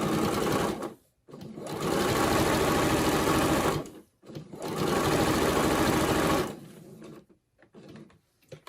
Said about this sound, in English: then with the straight stitch, I'm just going to sew straight down to here